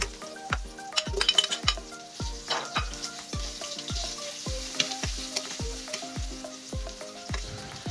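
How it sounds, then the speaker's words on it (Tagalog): Garlic sizzles in a frying pan as it is stirred, with regular sharp scrapes and clinks of a utensil against the pan recurring at a steady rhythm over a constant close frying hiss. "Siyempre, uunahin natin ilagay dyan yung bawang. Halu-haluin."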